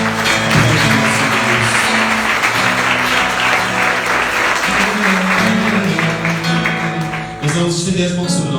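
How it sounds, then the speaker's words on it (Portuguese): Church congregation applauding loudly and steadily during a Portuguese-language worship service, dense clapping sustained throughout, with sustained organ or keyboard tones and a faint voice beneath the applause. "Vamos aplaudir o Senhor."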